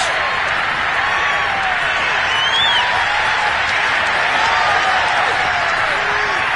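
A stadium crowd in Madden 22 cheers and roars steadily after a touchdown pass caught by Hopkins, with whistles and shouts over a dense, sustained wall of noise.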